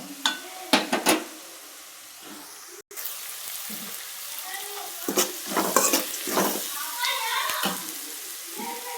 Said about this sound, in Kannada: ಹಸಿಮೆಣಸಿನ್ಕಾಯಿ, ಬೆಳ್ಳುಳ್ಳಿ, ಇದು ಹಸಿ ಗ್ಯಾಸ್ ಹೋಗೋವರೆಗೂ ಸ್ವಲ್ಪ ಹುರಿಬೇಕು